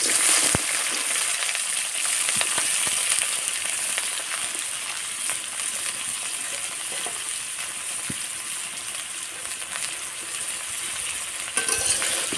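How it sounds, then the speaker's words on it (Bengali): Chopped onion, garlic and green chilli fry in a pan with a steady bright sizzle, and stirring adds occasional clinks and scrapes throughout. "ভালোভাবে ভেজে নেব।"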